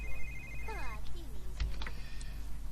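A telephone rings in a life-simulation video game, a short electronic ringtone trilling near the start over low background music and faint game clicks.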